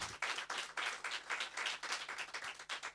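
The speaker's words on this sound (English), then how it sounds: "Please give him a round of applause." Audience applause fills a launch event for SHE-LEADS volume 4, a dense, steady wash of many hands clapping at moderate level, rising and falling slightly throughout with no clear speech.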